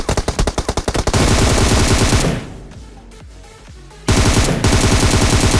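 Automatic gunfire in the video game PUBG rattles out in rapid, loud bursts, stops for a short lull with scattered distant shots, then resumes as sustained close firing.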